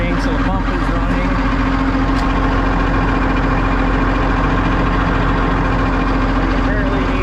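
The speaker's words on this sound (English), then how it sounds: "Takeoff shaft spinning, so the pump is running." A 1964 Mack C-600 truck, after sitting three years, idles with a deep, steady low rumble while its power take-off shaft spins the hydraulic pump, close and continuous, with a voice speaking over it.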